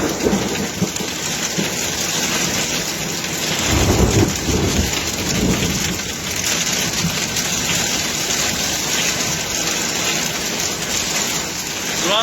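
Heavy rain pours steadily throughout while a deep rumble of thunder rolls in midway, fairly close.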